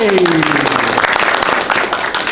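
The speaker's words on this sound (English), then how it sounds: "Right up on stage, give him a huge round of applause" A theatre audience at a stage magic competition claps loudly for a volunteer called up on stage, a dense, continuous burst of applause filling the whole moment from start to finish.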